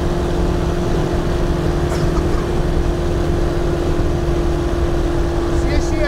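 The engine of a Sinus 912 motor glider runs loud and steady as the throttle is eased back, a constant droning hum with a strong steady tone and faint background voices.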